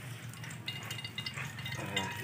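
Annatto seeds frying in hot cooking oil make a soft, fairly quiet sizzle with faint stirring scrapes, heard close up and steady.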